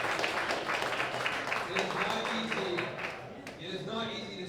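Audience clapping for startup pitch presenters at a Founders Live event, a moderate burst of applause from a crowd in a room, with voices mixed in.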